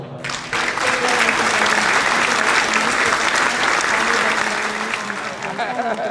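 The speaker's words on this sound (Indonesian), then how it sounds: "Tepuk tangan buat Bang Sarnadi." Steady, full applause from an audience at the opening of an exhibition of Betawi paintings, a dense wash of clapping that starts abruptly and holds at an even level.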